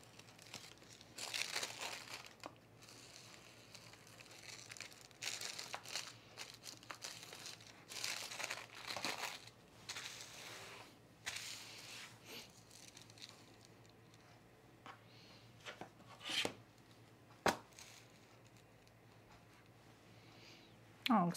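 Scissors cutting through sewing pattern paper to trim away unwanted sizes, with repeated soft crinkles and snips in irregular bursts, quiet and close, plus a few sharper clicks near the end.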